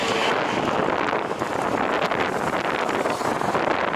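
Wind roars steadily across the microphone during a climb at Gülümbe, Bilecik, in a dense, rushing blast, loud and unbroken throughout, with no talking.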